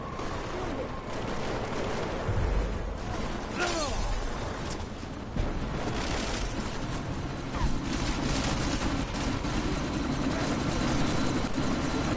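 A helicopter in the video game Deus Ex: Mankind Divided, a continuous rotor and engine drone mixed with gunfire bursts and game ambience, loud and steady across the whole stretch.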